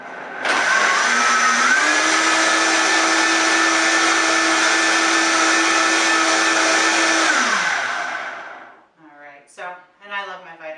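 A Vitamix blender making a smoothie runs loud and close for about eight seconds, a steady high whir that climbs as it gets up to speed, then winds down and stops, followed by a short bit of talk.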